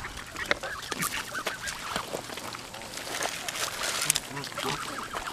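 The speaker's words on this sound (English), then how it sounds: "We're like causing bird fights." Geese squabble and fight at a bird sanctuary, a busy tangle of honks and flapping close by, with people talking and exclaiming over the commotion.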